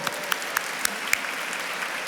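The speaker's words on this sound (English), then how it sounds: "So please join me in a round of applause to all of them." A dinner audience at a 2022 Asian American business awards event applauds steadily, a soft even wash of clapping with a few sharper individual claps standing out.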